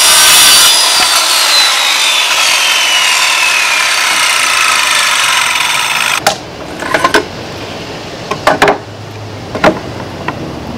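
A 1x8 wood board is sawn into backer pieces, with a loud, close, continuous power-saw cut for about six seconds, then several sharp knocks and clatters of the cut pieces.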